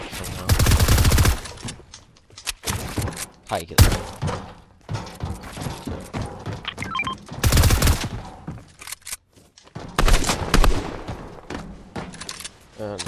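Rapid-fire gunshots in the video game Fortnite come in several loud, dense bursts separated by quieter gaps, with a player talking between them.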